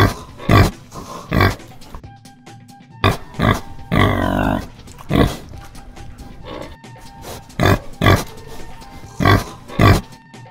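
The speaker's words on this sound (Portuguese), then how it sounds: "Porco." A pig grunting and oinking up close, in short, loud snorting bursts spaced irregularly, with one longer squealing grunt in the middle.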